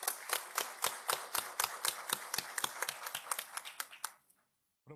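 Clapping at a lecture on Ramón Matías Mella as a retired major general is welcomed, sparse distinct hand claps in a steady run that thin out and stop near the end, fairly close and not very loud.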